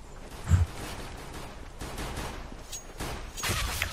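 Gunfire in Counter-Strike: Global Offensive, with a sharp close burst near the start, scattered shots and a denser volley near the end over steady game ambience.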